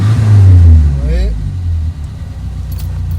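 A Renault Super 5 GT Turbo engine idles with a low, steady rumble, louder at first and then settling, while a person talks over it.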